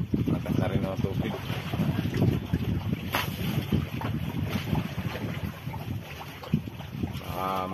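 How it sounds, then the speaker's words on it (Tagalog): Strong sea wind roars steadily against the microphone on a small crab-fishing boat while the net is hauled in, with water sloshing around the hull and a voice talking intermittently over the gusts. "Tsaka medyo malakas na yung hangin eh."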